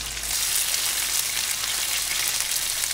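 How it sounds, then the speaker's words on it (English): Pork chops for a Chinese family recipe frying in hot oil in a pan, a dense, even, loud crackling sizzle that holds steady throughout at close range, with no talking. "The oil has been heated up, and my mom is adding the pork one by one with her chopsticks."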